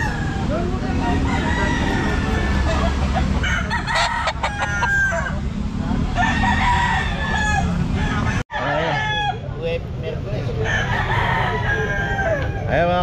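Bantam chickens at a busy pet market crow loudly several times and cluck in between, close by, with people talking in the background throughout.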